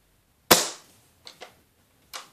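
Ares MS700 airsoft rifle firing a 0.3 gram BB through a chronograph: one sharp, loud crack followed by a few fainter clicks and taps, alone with no talk.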